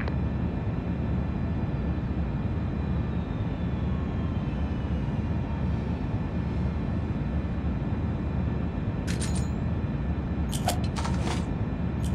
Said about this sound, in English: Friendly stealth chopper inbound.